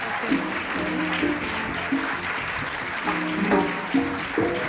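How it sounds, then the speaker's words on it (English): An audience in an auditorium gives a standing round of applause at a dedication ceremony, continuous steady clapping with a few voices cheering through it. "Let's give Dr. Caban a big round of applause."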